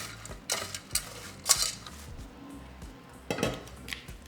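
Shredded cabbage and carrots tossed with dressing in a bowl, a utensil clinking and scraping against the sides in a few irregular bursts with soft wet shuffling between, close and quiet, no speech.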